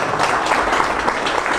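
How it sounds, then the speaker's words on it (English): A party crowd at a political kickoff gathering cheers and claps in a steady, dense wash of sound that carries through the whole moment without easing. "Everyone needs to cheer that one."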